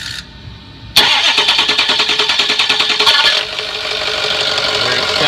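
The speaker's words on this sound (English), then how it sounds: "It sounds like either the ring gear or the starter itself." A 2006 Cherokee's starter cranks the engine in loud, rapid rhythmic pulses that begin abruptly and run for several seconds. The tone shifts partway through in a hit-and-miss way, close up with no talk.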